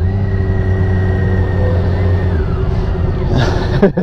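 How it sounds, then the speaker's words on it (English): A BMW K1600B motorcycle engine idles with a steady, low hum and a drawn-out tonal whine, then makes a brief shifting mechanical sound near the end. "press the starter button and you'll hear the engine rev up"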